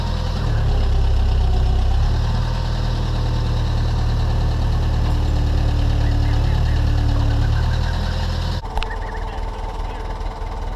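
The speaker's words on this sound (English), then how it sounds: "This is a 1979 Ford backhoe we're using." The heavy diesel engine of a 1979 Ford backhoe runs loud and steady up close, a deep knocking idle that shifts briefly near the end.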